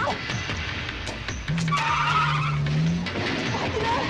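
A car in a 1988 action film skids away, tires squealing in a long rising screech over engine roar and general commotion, close and loud.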